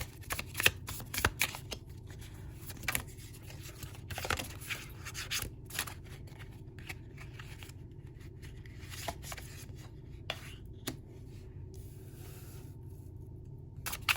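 Tarot cards are shuffled by hand in quick bursts of crisp riffling and flicking, close and fairly quiet, with brief pauses between the clusters of card sounds.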